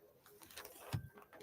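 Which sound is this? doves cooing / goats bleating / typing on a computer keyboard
doves cooing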